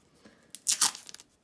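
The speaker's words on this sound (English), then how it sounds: "I'm going to take a piece of tape, okay, and I'm going to tape it on the back" A single short strip of tape tears off the roll in a quick crackling rip, close and fairly quiet, with brief rustles around it and no speech.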